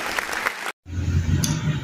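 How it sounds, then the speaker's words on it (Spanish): Audience applause at a school tribute ceremony at the Agustín Gamarra educational institution in Anta province: a loud burst of clapping that breaks off for a moment, then resumes as a dense, steady ovation. "Recibámosla con fuertes aplausos."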